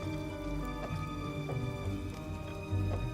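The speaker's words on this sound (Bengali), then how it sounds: "কাকা বৃষ্টিটা তো কমারই নামই নিচ্ছে না আরো বাড়বে নাকি" Heavy rain on a stormy night patters steadily with scattered drop ticks, set under a sustained musical drone.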